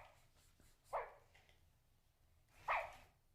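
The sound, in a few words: Sony aibo robot dog barking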